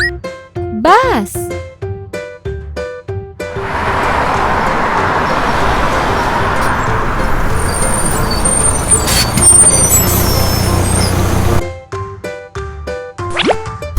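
A bus passes with a steady, loud broadband engine and road rumble lasting about eight seconds, capped by a hiss like an air brake near the end, set between short bursts of spoken words and music.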